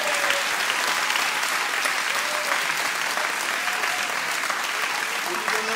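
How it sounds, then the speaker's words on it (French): A packed audience gives loud, continuous applause after an opera-bouffe show in Vaulnaveys-le-Haut, with a dense, unbroken roar of clapping and a few voices audible within it. "On fait encore une applaudissement."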